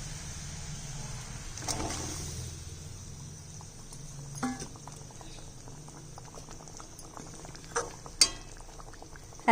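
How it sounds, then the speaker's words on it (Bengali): Tilapia fish curry gravy with poppy seed paste boils in a pot, soft bubbling with occasional louder pops and plops, close and quiet, with no talk. "ঝোলটা ফুটে গেছে, এখন মাছগুলো দিয়ে দিচ্ছি।"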